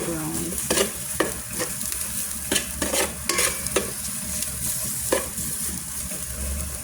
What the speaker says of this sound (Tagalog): magsusutay lang tayo dito ng bawang sibuyas. And, syempre, yung luya